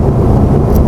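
Used Ferrari cruising on an expressway, a steady broadband rush of mirror wind noise and tyre road roar filling the cabin, loud and continuous with no talk.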